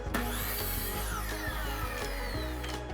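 A power saw cuts a piece of wood to a 2-inch length, a steady, close, loud whine with harmonic tones and regular rhythmic ticks or knocks running through the whole stretch, with no talking.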